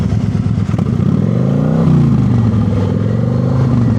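A motorcycle engine is held under throttle preload while braking to a stop, a loud, close, steady mid-pitched drone whose pitch sags and then levels off as the bike slows.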